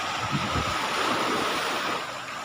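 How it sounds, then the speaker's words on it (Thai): Sea waves and wind at the shore during a summer storm, a steady loud broadband roar of surf and gusting air filling the whole clip, with no talk. "มันมีคลื่นมีลม"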